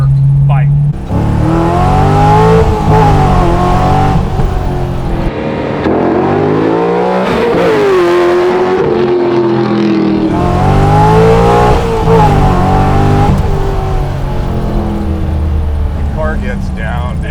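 A widebody C3 Corvette with an LS6 V8 roars and revs hard while accelerating, pitch climbing and dropping through gear changes, loud and close throughout.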